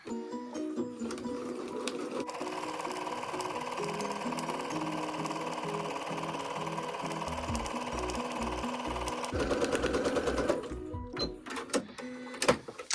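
A sewing machine quilting a Valentine's Day table runner, its needle running in a steady, fast mechanical rattle for most of the time before slowing into a few louder, uneven stitches near the end.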